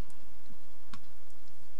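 A single computer mouse click lands near the middle of a quiet stretch, sharp and brief against low background hum.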